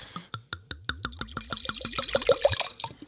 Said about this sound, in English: That was vigorous, strong pour to open the show.